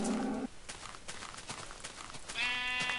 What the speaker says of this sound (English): Sheep! Come here. You're a white one. I need white wool.